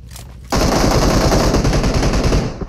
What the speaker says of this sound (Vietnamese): có tiếng súng ở phía khu vực này này